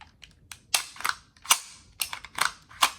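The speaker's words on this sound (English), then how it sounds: "This feels like pulling a real charging handle." Knights Armament PDW gas airsoft gun being handled, a series of sharp metallic clacks and snaps as the charging handle is worked, close and loud with no talking.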